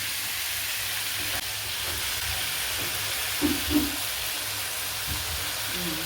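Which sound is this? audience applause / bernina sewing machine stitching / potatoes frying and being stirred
potatoes frying and being stirred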